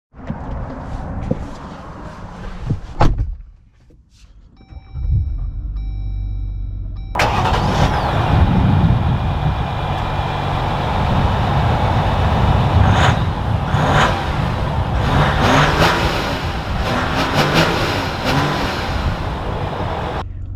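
A 2021 Jeep Gladiator EcoDiesel starts with a brief cranking burst, settles into a diesel idle after a short pause, then pulls away under a steady, loud engine drone that continues to the end, heard from inside the cab without talk.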